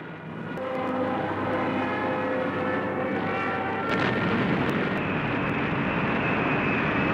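A propeller warplane roars by, a loud, sustained engine drone with a rising rush midway and sharp crackles like gunfire or explosions over archival wartime noise.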